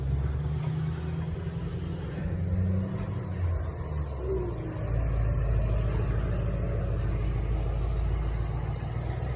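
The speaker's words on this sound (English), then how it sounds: "Sounds like my truck." A Ford F-250 pickup with a 7.3 Power Stroke diesel engine rumbles steadily nearby, a deep continuous low drone with slight rise and fall in revs, no voices over it.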